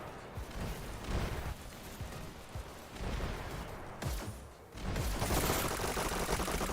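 Submachine guns rattle in quick, continuous bursts during a competitive VR e-sports shootout, fairly faint and muffled, with the firing dipping briefly before a louder, denser volley near the end.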